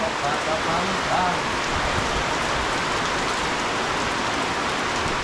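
Heavy rain pours down in a dense, steady hiss, with a voice briefly murmuring near the start.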